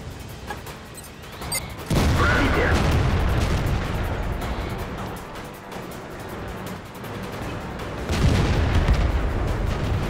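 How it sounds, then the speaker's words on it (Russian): Gunfire in The RED: North booms out in two heavy bursts, one early and one near the end, with a rough rumbling wash lingering between them. "я сделал один выстрел"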